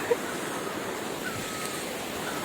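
A natural waterfall pours steadily, a constant hissing rush of falling water with no breaks, heard up close and fairly loud.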